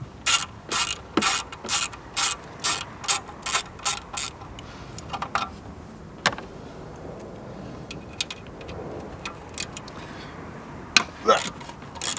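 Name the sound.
ratchet wrench removing exhaust bolts on Renault Megane RS 250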